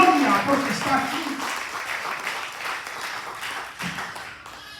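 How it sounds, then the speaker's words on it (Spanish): A church congregation claps and applauds through a Spanish-language sermon by a pastor, with a preacher's voice talking over the steady, close clapping. "Alguien le da un aplauso al Rey de la Gloria, porque está aquí."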